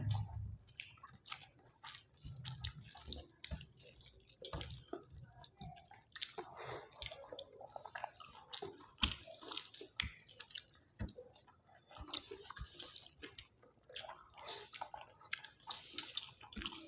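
Close, wet chewing of aloo dum and fried rice during an eating challenge, with steady munching and soft smacking bites repeating throughout, nothing else in the foreground.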